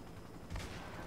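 Gunfire from another character in the video game Cyberpunk 2077 cracks once amid a dense, noisy game soundscape, a short muffled burst in the middle of the moment.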